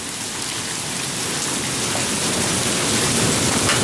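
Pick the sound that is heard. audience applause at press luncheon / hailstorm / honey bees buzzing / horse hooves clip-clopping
hailstorm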